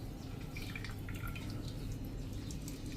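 Whey runs from paneer squeezed in a cotton cloth, a faint, continuous trickle with scattered soft drips over a low background hum.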